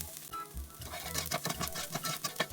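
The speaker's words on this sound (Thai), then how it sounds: "เราจะผัดไปเรื่อยๆนะคะ จนกระทั่งหอม กับกระเทียมมีลักษณะ เหลือง จน ออกน้ำตาลนิดนึงนะคะ" Onions and garlic are stir-fried in a pan for a homemade onion dip, with a soft continuous sizzle broken by repeated scraping strokes of a spatula, close and fairly quiet.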